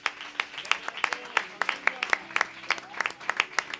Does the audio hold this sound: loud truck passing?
no